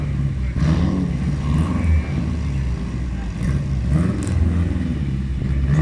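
A veteran rally car pulls away at the Barum Zlin rally, a low engine rumble rising slightly at a moderate distance while people chat nearby.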